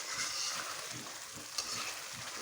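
Mustard spice paste fries and is stirred in hot oil for a Bengali mustard-crushed hilsa dish, giving a steady close sizzle with soft scraping of a spoon and a small clink partway through.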